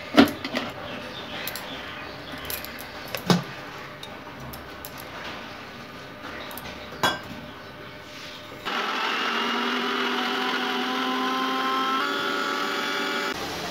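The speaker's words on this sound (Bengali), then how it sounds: "আজকে ওই আদাগুলো বেটে নেবো" A few clicks and knocks from handling the appliance come first, then an electric blender starts grinding ginger with a steady, loud motor drone that runs evenly to the end.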